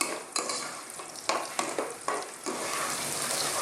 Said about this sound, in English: Now we just want to cook these in this hot oil just for about 2 minutes.